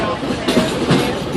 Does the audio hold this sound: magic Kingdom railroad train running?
yes